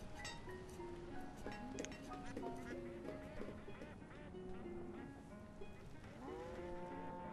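Cattle mooing in the colonial village-building game Banished, several low drawn-out moos rising over a constant busy backdrop of ambient village sounds and faint chatter-like noise.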